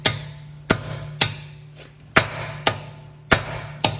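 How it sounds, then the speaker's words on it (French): Hammer blows drive a socket onto an anti-theft wheel nut, seven sharp metallic strikes at a fairly regular pace, loud and close, each ringing briefly before the next. "on va taper la douille. On va faire rentrer en force la douille."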